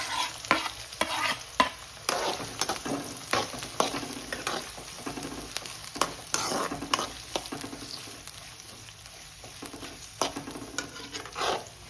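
Ginger, garlic and green chilli sizzle in a hot pan for a bitter gourd dish, punctuated by repeated scraping stirs of a spatula, close and without talk.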